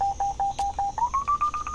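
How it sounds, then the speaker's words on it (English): In the Dinkum video game, a metal detector gives a steady train of short electronic beeps whose pitch climbs partway through, evenly spaced, clear and alone. "When the beep sound changes, you're getting close"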